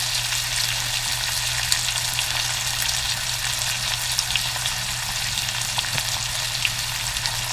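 Onions and garlic sautéing in olive oil and butter give a steady, close, even sizzle with fine crackles that runs unbroken throughout, with no talk over it.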